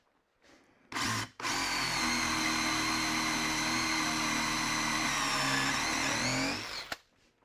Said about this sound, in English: I can hold a drill pretty straight